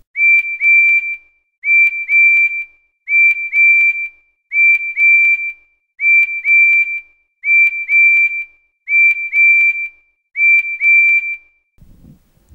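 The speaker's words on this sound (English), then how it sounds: "I've been working on my whistle signals." A train whistle blows eight evenly spaced, loud, steady toots of the same pitch as a signal pattern, followed by a faint rumble at the end.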